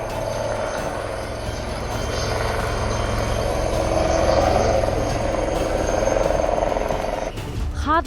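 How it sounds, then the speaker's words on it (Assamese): A rescue helicopter flies over a flooded area with a loud, steady, low rotor drone and engine whine that swells slightly midway, then changes near the end. "নাজিৰাত হেলিকপ্টাৰেৰে চলিছে উদ্ধাৰ অভিযান"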